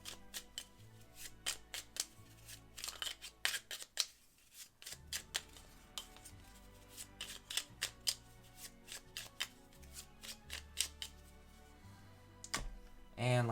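Playing cards for the Lost Ruins of Arnak board game are shuffled up close: repeated crisp riffling bursts and soft slaps, with short pauses between rounds and a brief quiet gap partway through.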